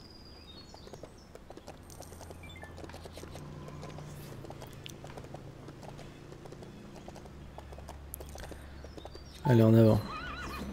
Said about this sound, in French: hey, regarde, des chevaux